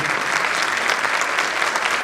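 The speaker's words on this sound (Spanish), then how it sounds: "Le damos la bienvenida con un fuerte aplauso a la señora Mónica del Río." Warm applause from a conference audience welcoming a speaker onto the stage, a steady dense clapping that holds evenly throughout.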